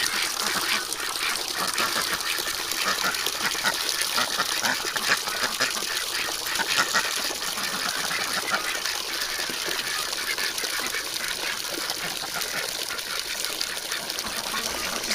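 A large flock of farm ducks quacks continuously and densely in a crowded winter pen, a busy, close chorus with no clear gaps and a steady hiss of background noise.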